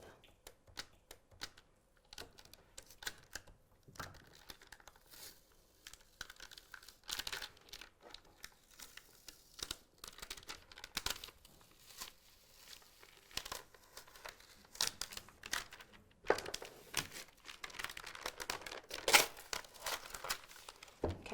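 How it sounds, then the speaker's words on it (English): Transfer tape is peeled slowly off vinyl while making a personalised notebook with a Cricut, giving faint, irregular crinkling and tearing crackles spread across a long quiet stretch. "Go ahead and slowly remove that transfer tape."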